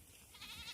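Goats bleat far off outdoors, a single faint, brief call heard over soft background noise.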